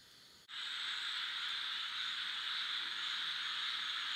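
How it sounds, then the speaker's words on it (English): Hundreds of green squirrel tree frogs calling together at a swamp, forming a dense, continuous high buzzing chorus that holds steady and fairly loud after a brief dip at the start. "squirrel tree frogs making a lot of noise at the camp."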